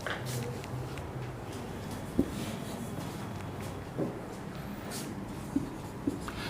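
A pen scratches quietly across paper as someone writes out numbers by hand for a bank reconciliation accounts lesson, with soft faint strokes and occasional taps.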